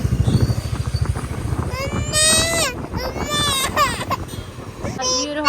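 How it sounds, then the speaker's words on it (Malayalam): A child cries and wails loudly for a jeep during a family road trip in Wayanad, the rising and falling sobs close and continuous over a low engine rumble. "ഇവിടെ ഒരാള് ജീപ്പിന് വേണ്ടി കരയുന്നു"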